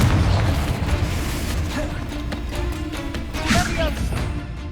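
A Confringo blasting spell explodes in Hogwarts Legacy on PS5, a dense, loud roar of booms and crackling debris that rolls on for several seconds amid busy game sound, with a brief voice-like cry partway through.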